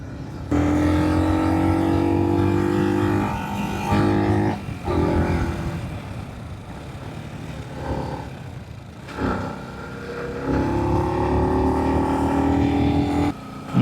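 A motorbike on off-road tyres rides near Pawana Lake, its engine droning steadily and rising in pitch as it accelerates and shifts through gears, close and loud, with short dips between pulls.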